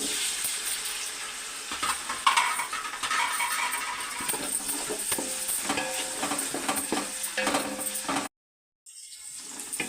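Onions and tomatoes frying in a pan for a Nellore-style fish curry, a loud continuous sizzle with occasional stirring scrapes, cutting out briefly near the end before the sizzle resumes.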